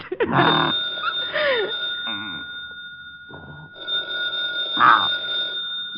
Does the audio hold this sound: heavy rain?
no